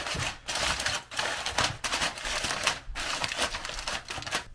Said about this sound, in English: Then I seal it with another piece of foil.